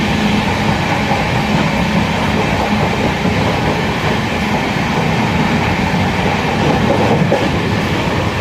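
Inside a passenger coach of the Gandhinagar Capital to Varanasi train, a loud, continuous rumble of running wheels carries faint rhythmic clatter throughout, with no voices.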